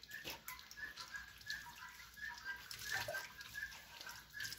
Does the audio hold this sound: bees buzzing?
no